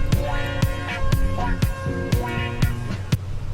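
Retro 1970s-style house kick drum sample thumping on every beat, about two per second, steady and punchy under a looping funk chord and bass pattern.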